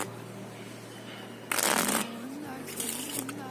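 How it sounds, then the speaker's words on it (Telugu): A deck of playing cards is shuffled in one loud riffle burst lasting about half a second, followed by softer card handling over a faint room hum. "ఫస్ట్ ఆఫ్ ఆల్ డెక్ ని మనం షఫుల్ చేసేద్దాం."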